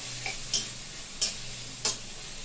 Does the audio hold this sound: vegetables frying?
yes